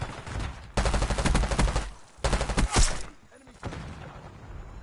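Call of Duty gunfire in several loud bursts of rapid automatic shots separated by brief pauses, sharp and close.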